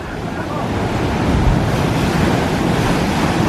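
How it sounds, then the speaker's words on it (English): Loud, continuous surf roars close by, ocean waves breaking and churning on rocks, mixed with buffeting wind noise, building slightly and staying steady throughout. "you've really got to watch out for the waves coming up here."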